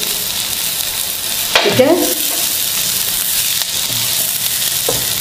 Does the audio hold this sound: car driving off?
no